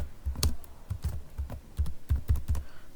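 Keys on a computer keyboard clack in quick, uneven bursts, about a dozen crisp taps close by in a quiet room.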